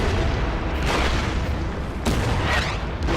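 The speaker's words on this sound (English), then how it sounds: "Artillery is doing its job." Artillery fire in Order of Battle, a strategy video game set on the Burma Road at Imphal in 1944, comes as heavy booming blasts rolling over a constant loud rumble.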